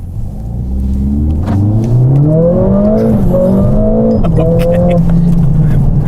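A Mercedes-AMG car accelerates hard on a lap of the Nürburgring, its engine note climbing steadily through rising revs in a loud, close, continuous roar, with a brief voice speaking over it.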